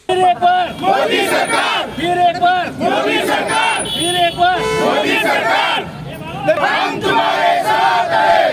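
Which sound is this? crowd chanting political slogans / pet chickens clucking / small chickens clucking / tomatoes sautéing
crowd chanting political slogans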